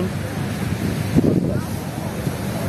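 Surf rolls onto the beach at Labuhan Jukung in Krui, a steady broadband wash with wind buffeting the microphone and a slight swell near the middle.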